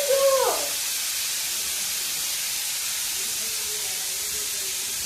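A pressure cooker lets out a brief whistle at the start, then a loud, steady hiss of escaping steam continues alone for several seconds.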